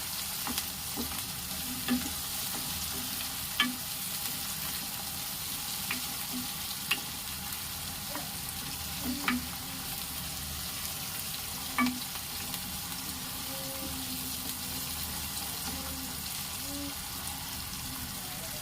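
Chopped onion and tomato cook in hot oil for garlic potatoes, giving a constant close sizzle broken by occasional soft clicks and scrapes of a spoon stirring the pan.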